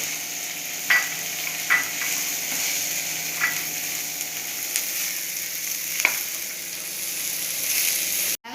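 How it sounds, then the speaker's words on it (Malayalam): Beans are added to softened, sautéed onions in a pan, giving a continuous loud close sizzle with a few light stirring scrapes and clicks throughout, no voices. "നമുക്ക് പയർ ചേർത്ത് കൊടുക്കാം."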